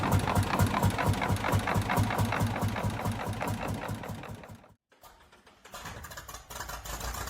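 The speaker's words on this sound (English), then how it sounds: "it featured a simple single-cylinder, two-stroke engine, hand-cranked after preheating, capable of running on multiple fuels" Single-cylinder two-stroke hot-bulb tractor engine, a 1940s Field Marshall, thumps in a steady, fairly fast rhythm at close range, then briefly cuts out before a rougher running sound resumes.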